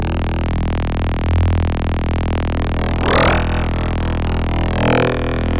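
A Serum software synth patch using FM from oscillator B plays a dense, buzzing textured tone, loud and continuous, with sweeping metallic swells as the modulation changes.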